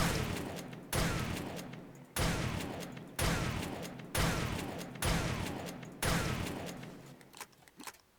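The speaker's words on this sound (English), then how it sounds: "so we are going to shoot right there, pretending that there's a zombie there" Seven loud, evenly spaced gunshots ring out in the survival video game 7 Days to Die, each with a sharp crack and a long decaying echo, with no talking.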